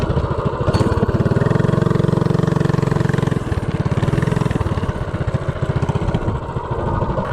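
A minibike with a DuroMax 208 engine and a 4-to-1 gear ratio accelerates from a standstill, its single-cylinder engine chugging loud and steady near the listener, pitch rising and then settling.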